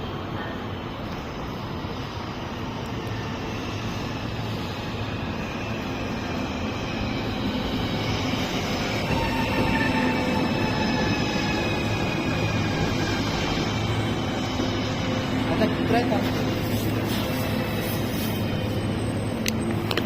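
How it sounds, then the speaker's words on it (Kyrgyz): A Moscow metro train arrives as a steady, loud rumble with rising tonal whine, holding for about twenty seconds in an underground station with no clear talk. "Биздин поезд келатат."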